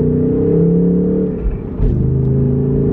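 A Ford Mustang fitted with a weighted shift knob revs loud and close, its engine note climbing, then dips briefly during a quick gear change before the drone resumes at a lower pitch.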